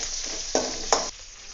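Finely chopped green chillies, ten of them, dropped into hot oil for a potato masala, giving a steady close sizzle with two sharp bursts as they hit the pan and are stirred, no voices.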